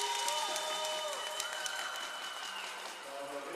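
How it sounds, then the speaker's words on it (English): Fans clap and cheer in a sports arena during a timeout, a moderate, steady wash of applause with whistles and scattered shouts, heard from a distance. "You can hear the fans cheering"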